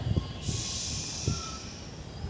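A train runs along a railway line, its wheels giving repeated low thumps over the rail joints beneath a steady high hiss, fairly close and loud, with no talking.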